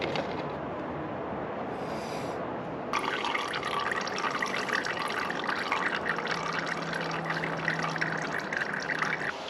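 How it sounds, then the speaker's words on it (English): Engine oil drains from the drain plug of a KTM 50 motorcycle into a stand with a hole, giving a steady close trickle and pour that thickens after a few seconds and continues alone. "So we're gonna let that drain right there and get all the oil out."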